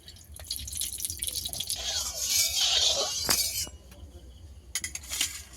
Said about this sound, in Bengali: গরম হয়ে গেছে, তেল দিয়ে দেব